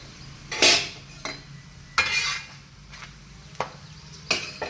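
Oil-fried egg in a pan being turned, heard as a series of sharp metallic clinks and scrapes of a utensil against the pan, roughly one per second, close and fairly loud over a faint background.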